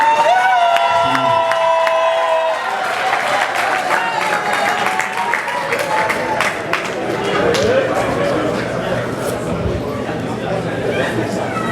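At an African fair in Montreal a crowd applauds and cheers, loud and sustained clapping with whoops and crowd chatter throughout, and a voice speaking over it at the start.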